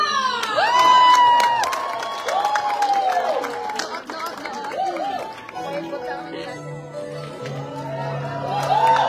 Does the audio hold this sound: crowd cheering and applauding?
yes